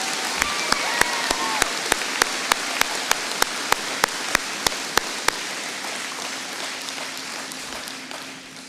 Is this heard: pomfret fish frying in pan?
no